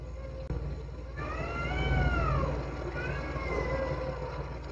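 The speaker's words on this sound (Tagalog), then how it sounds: "Takot na takot ako pag may mga nagme-mate na pusa." Cats yowling while mating on a roof, long wavering caterwauls rising and falling in two drawn-out cries at moderate distance over steady background hum.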